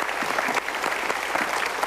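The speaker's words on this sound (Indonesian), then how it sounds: "Sekali kita berikan tepuk tangan dulu untuk yang sudah menjawab" A studio audience at an Indonesian televised motivational talk show claps steadily, a dense, even wash of applause filling the whole moment with no voices on top.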